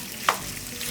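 Hot Italian sausage is broken up with a spatula in a frying pan, giving a soft, continuous sizzle with one brief scrape of the spatula against the pan.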